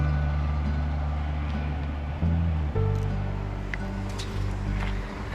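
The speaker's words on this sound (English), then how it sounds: "That's the bus." A city bus pulls in at a stop in Dubrovnik, its diesel engine rumbling low and shifting pitch as it approaches and slows, with a hiss of air and traffic wash around it, close and loud.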